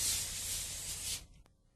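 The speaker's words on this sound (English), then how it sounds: "I'm going to spray that with a little bit of vegetable spray" Vegetable cooking spray hisses onto a foil-covered baking sheet in a steady, close burst lasting about a second, then stops, followed by a faint tap.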